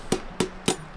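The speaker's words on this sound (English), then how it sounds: "Take a hammer," A hammer pounds anchor bolts into drilled holes with four sharp, evenly spaced strikes in quick succession, close and distinct.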